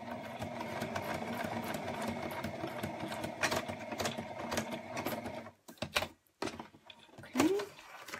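A sewing machine stitches through printed paper Valentine cards, whirring steadily for several seconds before stopping, then giving a few short, choppy bursts and clicks, with someone speaking nearby.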